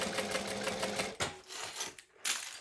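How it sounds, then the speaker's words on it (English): A sewing machine runs in fast, loud rhythmic stitching on a bag, then slows and stops with brief pauses before a final short burst. "I'm trying to make it as flat as I can, right near where I'm stitching."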